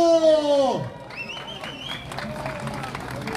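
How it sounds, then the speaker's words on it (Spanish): A crowd claps and cheers to welcome arriving pilgrim cyclists at an outdoor reception. Steady applause and babble fill the scene after a tonal horn-like sound fades, with voices shouting over the clapping. "¡Aplauso para San Antonio!"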